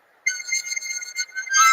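A single harmonica note sounding clear and reedy for over a second after a brief silence, wavering slightly in loudness and swelling brighter at the end, with no talk.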